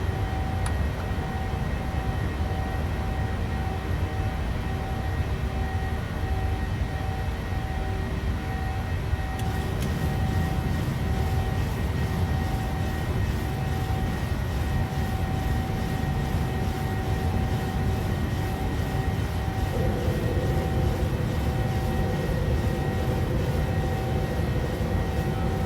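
PMDG 737-700 jet engines in Microsoft Flight Simulator roar steadily through the takeoff climb out of Tokyo, a constant loud rumble under a sustained whine, with a slight shift in tone partway through.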